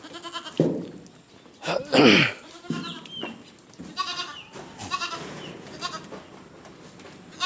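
Black Bengal goats bleat several times, one loud wavering cry standing out among quieter calls, with shuffling and soft farmyard noises between them.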